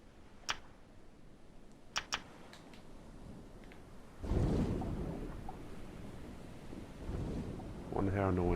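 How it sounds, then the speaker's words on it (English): Storm wind in the survival video game Stranded Deep rises suddenly into a broad, rushing roar after a few faint ticks and clicks, with a voice briefly heard near the end. "It's now just about to storm."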